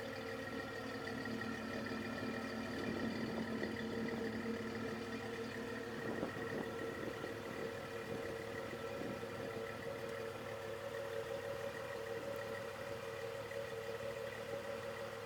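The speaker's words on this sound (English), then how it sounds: "As you guys hear, it just has a really, really nice rumble to it" A Jeep Cherokee Sport XJ engine idles on a very cold day with a low, steady rumble, continuous and even throughout, heard from a short distance.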